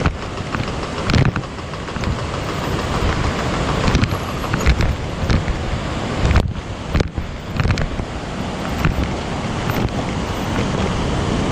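Heavy rain and gusting wind on a bridge over a river in landslide-hit Sikkim, a loud, steady broadband roar with buffeting wind surges and brief dips, no voices.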